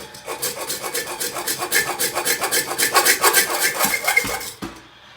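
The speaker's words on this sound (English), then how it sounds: "We're going to cut the bolt down." A brass toilet bolt being cut down with a hacksaw: fast, rhythmic rasping strokes, close and loud, running steadily before stopping abruptly near the end.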